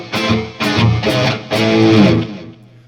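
Electric guitar lead channel tone run through a pedalboard, loud and alone: a few quick distorted phrases of picked notes in short bursts, ending in a held note that fades.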